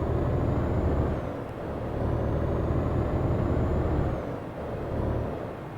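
A heavy truck engine in the video game American Truck Simulator rumbles steadily, its drone swelling and easing as the revs shift, with a faint high whine riding on top.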